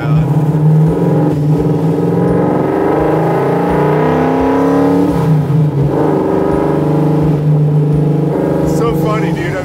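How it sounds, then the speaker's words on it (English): A 440 big block V8 in a Plymouth GTX saloon racer rumbles steadily while cruising, loud and continuous close by, with voices talking over the engine note throughout. "There's no substitute for a V8."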